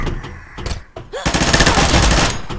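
Gunfire from the online shooter game Combat Master: a few sharp single shots, then a dense rapid automatic burst lasting over a second, loud and close with no talk over it.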